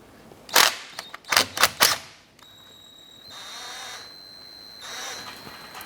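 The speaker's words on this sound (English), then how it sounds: "I'm going to go ahead and remove this here using a 12mm socket" A 12mm socket on a ratchet or impact tool works a brake hose bolt loose on a 2004-2008 Acura TL rear caliper: several sharp mechanical bursts, then a softer whirring run.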